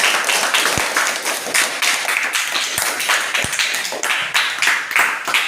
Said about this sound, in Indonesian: kita kasih tepuk tangan untuk kawan kita Pani.